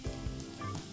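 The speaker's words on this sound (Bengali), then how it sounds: "আমরা এখন দিয়ে দিব রসুন কুচিটা দিয়ে রসুন কুচিটা দিয়ে দেবো" Minced garlic frying in hot oil, a close, quiet sizzle with a brief low tone, heard for about a second.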